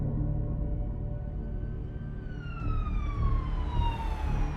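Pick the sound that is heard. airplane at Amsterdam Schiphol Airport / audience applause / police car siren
police car siren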